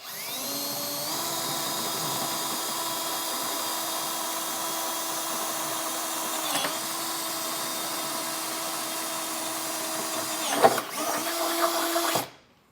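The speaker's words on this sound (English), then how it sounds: "you can go ahead with a 5/16 drill bit and enlarge it out" A power drill with a 5/16 drill bit enlarges a pilot hole for side steps on a 2020 Jeep Wrangler, giving a steady, close whine that runs for about eleven seconds with a brief dip before cutting off.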